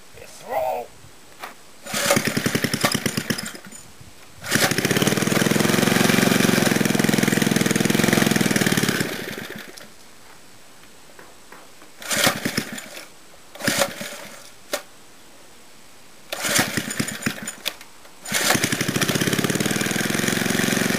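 A gas lawn edger engine sputters through short start attempts, then catches and runs steadily for a few seconds before cutting out, followed by more bursts of revving and running; someone talks briefly between attempts.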